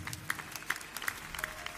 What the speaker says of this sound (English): Give Jesus a clap of offering